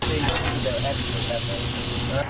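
Food sizzles and fries steadily in a small taco shack kitchen, a continuous close hiss with faint stirring, heard alone without talk.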